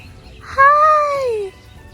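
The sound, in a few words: crowned crane call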